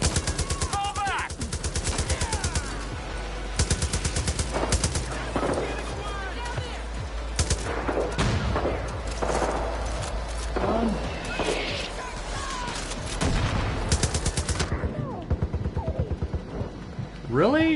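Light machine gun and cannon fire in the Far Cry New Dawn video game come in rapid rattling bursts and heavy booms, loud and repeated over the game's background sound.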